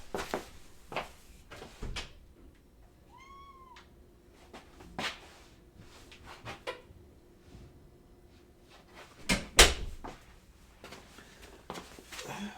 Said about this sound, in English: I'm gonna go open the door for her.